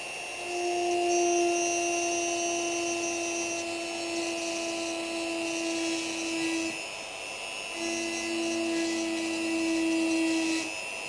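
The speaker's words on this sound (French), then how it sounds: "lui va tourner avec une meule diamantée, et va meuler et dépolir le verre" Diamond grinding wheel on an engraving tool frosting and scoring a line into glass, a steady high-pitched whine held for several seconds, briefly stopping, then resuming, close and loud with no talk.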